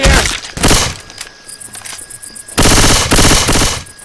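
Left 4 Dead 2 gunfire at the Dark Carnival, loud rapid automatic bursts in two clusters with a quieter gap of scattered shots between, close and dense over game noise.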